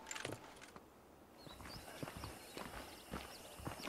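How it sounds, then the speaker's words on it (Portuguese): Horse hooves clip-clop at a steady walking rhythm while herding cattle in Red Dead Redemption on Xbox One, moderately loud with light background game ambience and occasional small chirps. "Monte o seu cavalo e parece que a gente vai ajudar a Bonnie."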